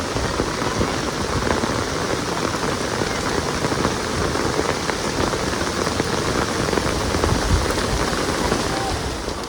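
Heavy rain pours down in a dense, loud, unbroken roar of drops on surfaces, sustained close by throughout without voices.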